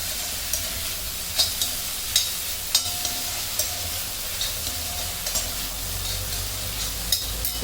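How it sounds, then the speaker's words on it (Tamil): Onion, tomato and capsicum sizzle steadily in a pan for capsicum chutney, a constant bright frying hiss with a low hum beneath and regular soft scrapes of stirring. "வெங்காயம், தக்காளி, குடமிளகாய் எல்லாம் எப்படி வதங்கி வந்திருக்கு பாருங்க."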